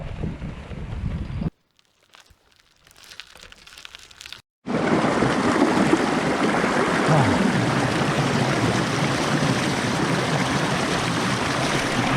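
Water of a small forest creek in Huntley, Pennsylvania rushes steadily and loudly close to the microphone, after a brief stretch of quieter rustling and near-silence.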